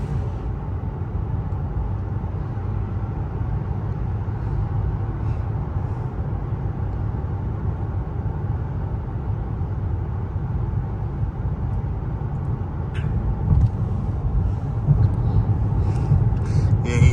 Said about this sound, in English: I can hear his engine.